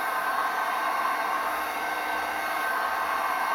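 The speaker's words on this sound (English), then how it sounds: "Get a heat gun on it, heat the end up for a couple of minutes" A heat gun warms the end of a plastic part to soften it, a steady close whooshing blower hiss that stays even and unbroken from start to finish.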